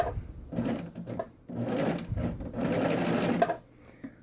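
A sewing machine with a ruffler foot stitches into fabric in a few close, rapid mechanical bursts, with a whirring motor and a rhythmic needle clatter that pause briefly between runs.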